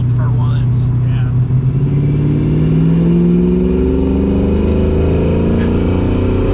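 A 1977 Datsun's engine hums and pulls as it accelerates on the road, a loud low drone that steadily rises in pitch with the speed, heard from inside the car.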